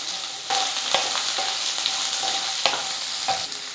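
Garlic, dried red chillies and onions sauté in a pan for a garlic chutney: a continuous bright sizzle, close and even, broken every second or so by sharp spatula scrapes and taps.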